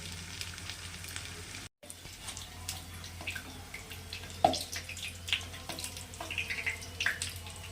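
Chicken patties deep-frying in oil, a steady bubbling sizzle with scattered crackles and a few louder spits, interrupted by a brief silent gap.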